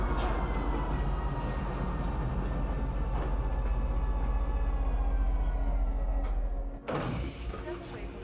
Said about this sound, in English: I find that train more satisfying because the sound is a lot more like, I don't know, it's more immersive